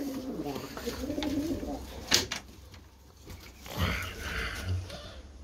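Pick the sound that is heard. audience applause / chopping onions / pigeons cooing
pigeons cooing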